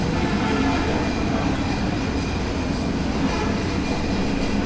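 Padma Express passenger train pulling away from Ibrahimabad railway station at night, a steady heavy rumble of wheels and carriages with light rhythmic clatter, loud and continuous from on board.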